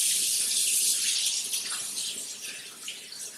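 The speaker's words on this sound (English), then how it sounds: "Rinse your hands off." Tap water runs steadily from a kitchen faucet as hands are rinsed, a close, continuous broadband rush with slight fluctuations throughout.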